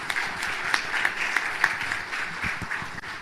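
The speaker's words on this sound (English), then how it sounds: "Let's give her an applause." An audience applauds after a presentation at a live sustainability award round, steady clapping with a few sharper individual claps standing out, sustained at an even level for a few seconds.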